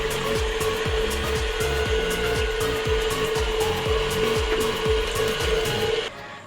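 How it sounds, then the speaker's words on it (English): An electric mixer whips eggs with a dash of salt into fluffy egg whites, a loud, steady motor whir with a fast rhythmic beating texture running throughout before stopping abruptly at the end. "Now we're going to use our mixer to turn these eggs into fluffy egg whites."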